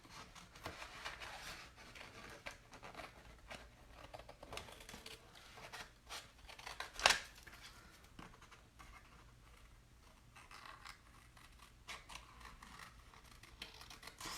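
Small scissors trim the excess from a tattoo decal for a glitter tumbler, making faint, close snipping and soft paper rustles. One sharper snip stands out midway against a quiet room, with no talking.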